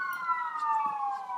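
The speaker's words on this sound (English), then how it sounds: "Here come the sirens." A siren wails steadily, its pitch slowly falling, heard at a moderate distance with no talking.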